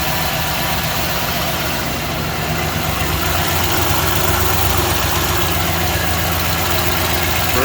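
A big block Chevy truck engine idles in a steady, rumbling drone that stays loud and close throughout.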